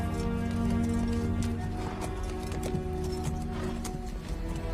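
A horse trotting, with steady clip-clopping hoofbeats carrying on throughout, fairly close and even-paced, backed by a low sustained musical drone.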